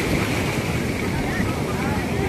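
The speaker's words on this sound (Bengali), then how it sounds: "একখানা খুব বড় ঢেউ এলো" Big sea wave breaking at Puri beach, a loud continuous roar of surf with heavy wind buffeting the microphone throughout.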